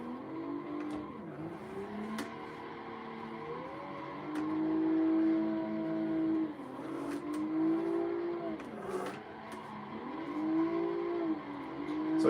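Car drifting through a corner in a sim racing game, its engine note swooping up and down repeatedly as revs rise and fall, with occasional sharp clicks and tire noise, and no talking.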